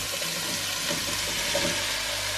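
Vegetables tipped into a pan of hot olive oil for minestrone soup, giving a loud, steady hiss and sizzle with faint clatter, close and alone.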